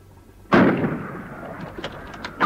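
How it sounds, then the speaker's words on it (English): A gunshot-like burst giving covering fire in a radio drama about fighting Germans, one sharp loud crack with a long rumbling decay, followed by faint scattered clicks. "I'll give you covering fire."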